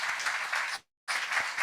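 Audience applause at a live games industry talk evening in Dundee, a dense burst of clapping that cuts out abruptly for a quarter second, then resumes at full strength.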